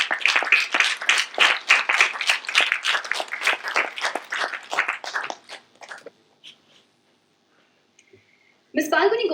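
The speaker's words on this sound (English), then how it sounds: "Please give a big round of applause." A crowd claps steadily for about six seconds, then the applause fades out into near silence before a brief burst of noise at the end.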